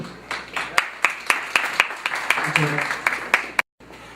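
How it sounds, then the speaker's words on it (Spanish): A seminar audience claps to welcome a speaker at an international seminar on the pharmaceutical market in Ecuador. The clapping is moderate and somewhat sparse, with distinct separate claps over a low hum, and it cuts off abruptly near the end. "Un aplauso, por favor."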